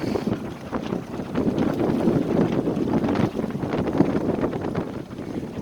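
Strong wind of about 20 to 30 knots buffets the microphone aboard a small sailboat, a loud, gusting rumble that keeps on with only brief dips.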